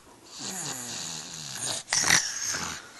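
A dog snoring close by, with slow rasping inhales and snorting exhales that rise into a louder, wheezy snort near the end.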